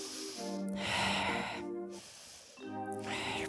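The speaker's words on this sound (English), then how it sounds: "Breathe out, breathe in." Close, loud breathing during a standing Pilates workout with a mini ball: a few strong, airy exhales and inhales alternate in a slow rhythm, with no talking.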